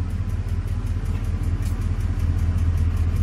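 A rapid, steady mechanical tapping from toward the rear of a Ford 5.4L 3-valve Triton truck engine rides over a low idling rumble, close and continuous throughout.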